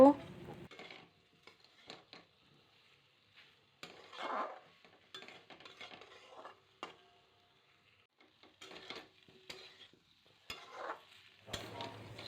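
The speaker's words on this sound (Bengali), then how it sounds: "আবার খানিক্ষণ নাড়াচাড়া করে নেব" Taro and prawn curry with turmeric being stirred in a pan: scattered scrapes and soft clinks of a spoon against metal come in short irregular bursts over a quiet background, close up, with a low voice briefly at the start and end.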